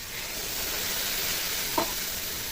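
A spice paste with turmeric, chili powder and a little water sizzles steadily in a hot pan, a continuous close hiss with one small bubbling pop near the end.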